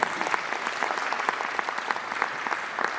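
An audience at a university induction event claps together, a dense steady patter of many hands sustained for a few seconds, with no speech over it.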